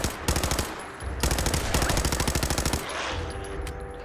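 A gun fires rapidly in the modded Fallout 4 video game. Two loud bursts of automatic fire come in quick rhythmic shots, separated by a short pause, then trail off into a softer rumble.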